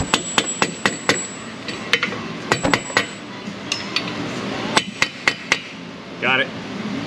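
Sharp metallic hammer strikes ring out in irregular bursts, some quick pairs and a steady run of blows, close by with a brief rattling scrape near the end, during axle work on a 2015 Cadillac SRX.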